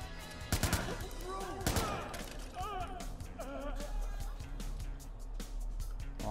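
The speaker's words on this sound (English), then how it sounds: "We're having gunshots out here, this fucking crazy warfare." Bursts of rapid gunfire from the video game Watch Dogs crackle in short volleys, with a couple of louder blasts, under scattered game sound effects and occasional voices.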